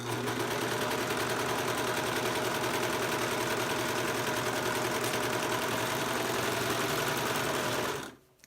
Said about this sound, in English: I'm gonna keep the seam allowance flipped down and just keep right on serging.